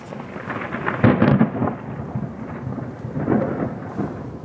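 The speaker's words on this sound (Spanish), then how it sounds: "el trueno retumba en todas partes" Thunder rolls and rumbles through a stormy day in Valencia, a deep continuous roar with louder swells around the middle and again near the end, with rain falling throughout.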